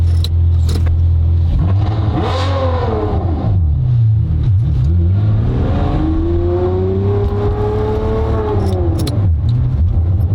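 A tuned 600-horsepower Ferrari V12 revs repeatedly, its pitch swooping up and down and then climbing into a long sustained wail, loud and close with no talk.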